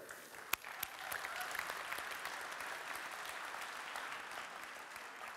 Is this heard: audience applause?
yes